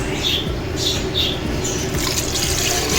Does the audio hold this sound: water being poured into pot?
yes